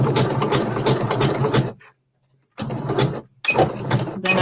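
A sewing machine stitches through rope in fast motorized bursts, running steadily for a stretch, pausing, then starting again in two shorter runs, loud and close with no talk.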